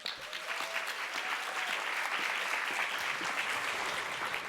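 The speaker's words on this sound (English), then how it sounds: "Please give a round of applause once again for Seline Shenoy." Audience applause at a summit panel introduction, a steady even wash of many hands clapping for several seconds, moderately distant and without talk.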